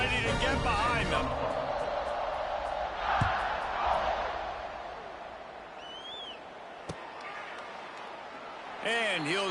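Stadium crowd noise from a college football video game with the Utah Utes, a broad steady roar building around a fourth-quarter kickoff, with a commentator talking over it throughout.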